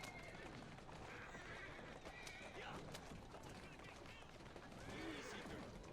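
A horse in Assassin's Creed Syndicate gives several bending whinnies over steady clip-clop hoofbeats and a busy background, while people speak throughout.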